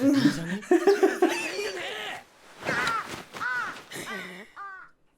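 A crow in the Demon Slayer anime caws in several harsh, rasping calls spread over a few seconds, loud and close, with voices and laughter mixed in.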